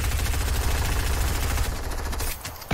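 Gunfire in the video game Fortnite: a loud, dense, sustained rattle of rapid shots that continues almost without pause before cutting off near the end.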